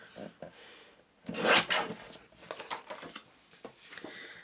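Patterned craft paper from an 8 by 8 inch pad is trimmed to 3 3/4 inches, giving a few short, close, quiet rasping cuts and slides, one louder swipe in the middle.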